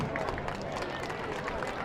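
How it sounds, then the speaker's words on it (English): Crowd applause in the stands at a homecoming high school football game, Pilot Point Bearcats versus Boyd Yellowjackets, a steady distant wash of clapping and crowd noise with faint babble. "Big round of applause for them and a big thank you"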